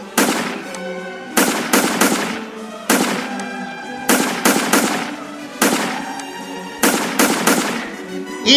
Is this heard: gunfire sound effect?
yes